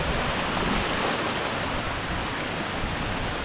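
Strong floodwater rushes past in a constant, loud, broadband roar, steady and close with no pauses, like a torrent pouring over a field or spillway.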